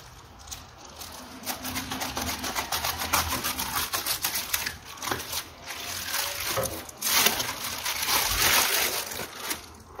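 Close cutting and tearing of plastic packaging on a DC tarot deck, a rapid run of crisp clicks and crinkles with brief pauses, fairly quiet and close with no talking.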